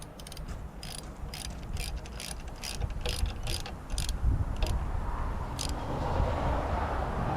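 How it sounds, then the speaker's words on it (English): A ratchet wrench clicks in a quick run of about a dozen sharp, close pawl clicks as a long screw is torqued down on an F550 truck, followed by steady mechanical rumble in the background. "I'm going to put this long screw back where it goes and torque it down"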